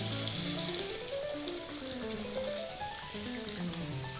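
Spiced potatoes sizzle and fry steadily in a pan for an Assamese fish curry as hot water is added, a continuous close bubbling hiss with no talking.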